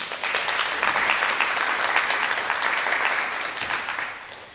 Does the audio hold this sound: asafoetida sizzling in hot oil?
no